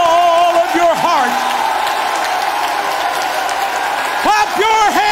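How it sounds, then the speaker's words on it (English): A congregation claps their hands with all their might inside a church building during a Pentecostal camp meeting, a dense, sustained wash of applause filling the room while a preacher's sung and shouted voice rises over it. "I wonder what it would sound like if everybody in this building clapped your hands with all your might"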